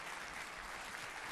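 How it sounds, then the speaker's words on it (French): Applause fills a televised debate studio in Brittany, France as the Prime Minister is welcomed: dense, steady clapping from an audience, moderately loud and continuous, with no voices above it. "Des applaudissements pour accueillir le Premier ministre"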